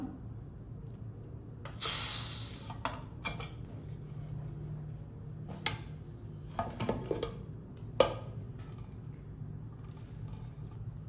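A pressure cooker of quail fry being opened once the pressure is released: a short sharp hiss of escaping steam, then scattered metallic clinks and knocks of the lid and pot, fairly quiet and close.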